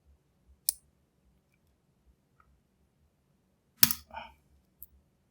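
Sparse small clicks from a lock pick working the rear pins of a lock, with one sharper metallic burst and rattle near the middle and a faint tick at the end, close and quiet.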